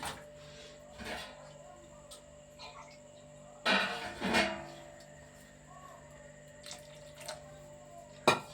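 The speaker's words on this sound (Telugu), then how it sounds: "కొద్దిగా వేస్తాను వాటర్." Water splashes into a pan in a couple of short bursts against a steady low hum, with quiet gaps between the pours.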